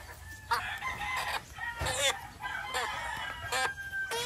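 Battlecross breed hens and a rooster call on a farm, with repeated clucks and short crowing bursts coming at irregular intervals, fairly faint and unaccompanied by talk.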